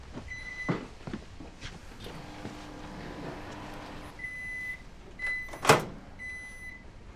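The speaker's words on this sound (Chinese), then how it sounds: "我把红烧肉端去微波炉，再热一下" Microwave oven running while reheating braised pork, a faint steady hum with clunks and a door click, followed by several short high beeps and a sharp clack near the end.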